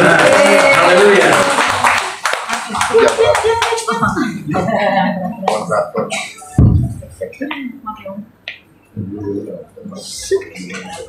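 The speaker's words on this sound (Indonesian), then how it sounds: "Mari kita berikan sorak-sorak bagi Tuhan" A church congregation at a praise and testimony service in Jakarta bursts into brisk clapping and cheering at the start, then it fades as spoken voices take over.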